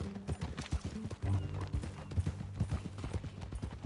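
Horse hooves clip-clop at a walking pace in Red Dead Redemption 2, a steady rhythm of fairly close, moderately quiet hoofbeats with no talking.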